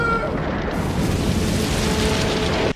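The Klingon moon Praxis explodes in a Star Trek film, a dense, roaring rumble of blast and debris that holds loud and steady for nearly three seconds.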